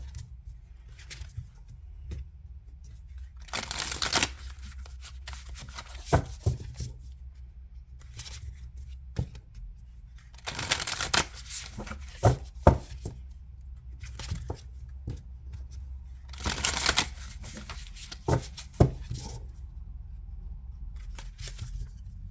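An Ascension Tarot deck is shuffled by hand in three bursts of crisp, close riffling and rustling, separated by quieter stretches of faint card handling, with no talking.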